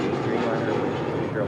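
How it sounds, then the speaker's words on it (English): A KLM Boeing 787 Dreamliner from Amsterdam about to touch down on runway 25 left at LAX, giving a brief, loud, broad jet rumble that holds steady throughout. "There's KLM, the Dreamliner, coming in from Amsterdam, about to touch down on 25 left."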